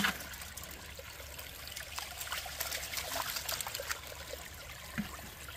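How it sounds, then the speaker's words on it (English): Water washes gravel and concentrates through an RPE gold prospecting sluice in Indiana, making a steady, fairly faint trickling and rushing flow with no talking. "Actually moving material out the bottom of the sluice now."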